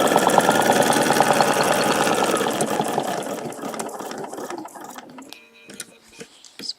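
Sewing machine stitching along a template to quilt a feather design, a fast steady needle chatter running loud for several seconds, then slowing and trailing off into a few sparse stitches.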